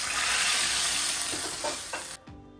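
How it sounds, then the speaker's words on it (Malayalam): Mustard seeds, curry leaves and dried chillies hit hot oil for a sambar tempering, giving a loud, dense sizzle that crackles steadily before cutting off abruptly near the end. "ഇതാ കുറച്ച് കടുക്, കറിവേപ്പില, ഉണക്കമുളക് ഇട്ടിട്ടൊന്ന് വറവ് വയ്ക്കുന്നുണ്ട്."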